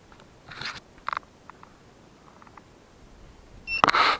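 A short electronic metal detector tone from a Garrett detector chirps near the end, signalling a shallow target, sharp and bright against quiet background, after a few faint scattered clicks and scrapes.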